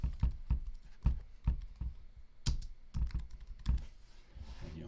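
Typing on a computer keyboard, a quick irregular run of soft close key clacks, fairly quiet with no talking.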